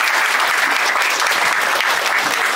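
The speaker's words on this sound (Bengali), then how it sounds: "একটু সবাই হাততালি দেব।" Loud, dense applause from an audience at a toppers celebration event honouring a student with a top exam rank, a continuous even roar of clapping throughout.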